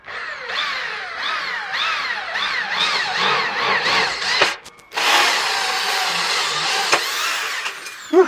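A DongCheng DJZ10-10 electric drill whines up close at low RPM, its pitch rising and falling in repeated pulses as it bores through material, then pauses briefly and resumes steadily.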